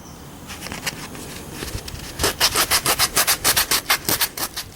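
Coarse 50 or 60 grit sandpaper is rubbed hard against skin to strip off super glue, starting as soft scuffing and turning into a steady run of loud, rhythmic rasping strokes close by.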